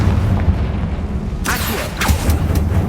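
A fire spell explosion from the video game Hogwarts Legacy lands as a deep boom with a crackling burst, over a steady rumbling game soundscape with no speech.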